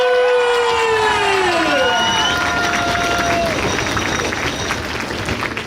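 A large crowd cheers and applauds loudly at the Star Tour 2023 finale concert, a dense sustained roar of clapping and shouts with descending whistles or voices at the start, filling the whole stretch.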